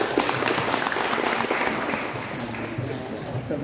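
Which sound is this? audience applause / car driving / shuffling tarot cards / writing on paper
audience applause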